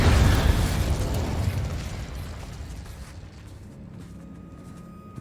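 Incendio fire spell blast cast in the Hogwarts Legacy video game: a loud burst erupts at once and rolls into a roaring whoosh that fades over several seconds to a quieter tail.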